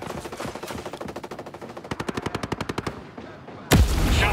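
Rapid automatic gunfire in Ghost Recon Breakpoint: scattered shots at first, then a tight run of evenly spaced loud rounds, followed by a brief lull and a sudden heavy blast near the end.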